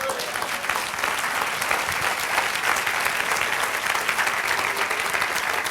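A church congregation bursts into steady, dense applause that holds at a constant level for several seconds, with no voices breaking through the clapping.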